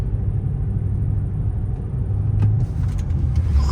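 A 2013 Dodge Charger R/T AWD pulls away from a standstill with its engine droning steadily at moderate volume, a continuous low rumble that holds through the whole stretch, heard from inside or close to the car.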